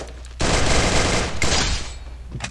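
Rapid automatic gunfire in a ranked squad match of a shooting video game, a loud sustained burst with a brief break, then fading to quiet with a faint pop at the end.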